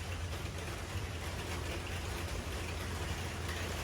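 Rain beginning to fall in Arizona, a steady, even hiss of drops spread across the whole clip, alone and fairly loud with no voices.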